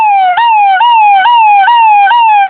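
A man vocally imitates an ambulance siren, a loud, clean rising-and-falling wail that repeats in about five quick cycles, very close and convincingly siren-like, with nothing else heard.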